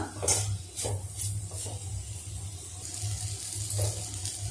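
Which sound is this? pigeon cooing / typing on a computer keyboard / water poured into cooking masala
water poured into cooking masala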